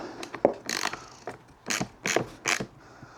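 A hand ratchet snugs down fender and side-plastic bolts on a 1993-era Honda XR200R dirt bike, giving several short bursts of quick metallic clicking separated by brief pauses, close and moderately loud.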